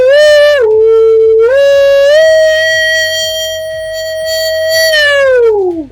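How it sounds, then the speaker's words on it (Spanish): A loud synthetic tone from a phone wave generator app, with rich harmonics, sweeps up and down in pitch like a siren, holding steady stretches before gliding down at the end. "Vamos a poner el generador de onda que pueden descargar en su teléfono."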